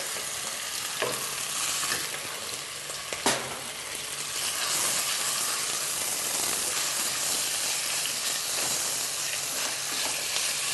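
Minced meat sizzles and spits in a hot pan with peppers, a continuous bright frying hiss with occasional stirring clinks and scrapes, close and steady throughout.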